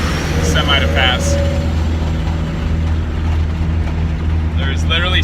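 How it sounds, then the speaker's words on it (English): A semi truck passes on a road, its low engine rumble and tire roar steady and loud throughout, heard from inside a vehicle with brief higher chirps near the start and end. "I'll wait for this semi to pass."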